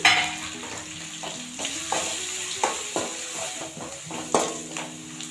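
Spices are stirred into a sizzling potato stir-fry in a pan, with a constant frying hiss and repeated scraping and clinking strokes of a spoon against the pan, close and steady.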